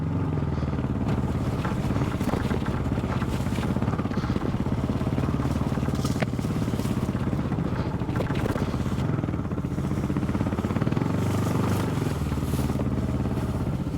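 A Kawasaki KLR 650 motorcycle rides a tight, rough trail with its engine droning steadily and close throughout. Faint clatter and scraping from the terrain sit under the engine, and no one speaks.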